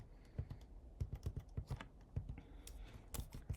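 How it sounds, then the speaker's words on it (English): Computer keyboard keys are pressed in quiet, irregular taps and short bursts, some keystrokes closer together, others spaced apart, with no talking. "using the comma and period keys to scroll through slowly"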